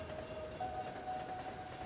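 A train runs steadily in the game Blue Reflection: Second Light, giving a continuous rumbling ride noise with a thin sustained whine, heard briefly and fairly softly with no talk.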